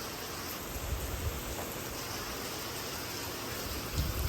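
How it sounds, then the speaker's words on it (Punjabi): Heavy morning rain pours down in a village, a constant dense wash of noise with a low rumble and no pauses, heard at a moderate level. "ਦੇਖੋ ਛਰਾਟੇ ਵਾਲਾ ਮੀਂਹ ਆ"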